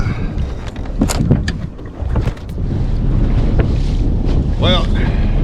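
Strong wind buffets a fishing boat on Lake Palestine, Texas, roaring and gusting against the microphone with knocks and water sounds, and a brief voice in between.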